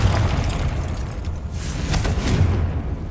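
A Confringo blasting spell explodes in Hogwarts Legacy, a dense, sustained rumbling blast with crackling bursts that swell midway and roll on for several seconds.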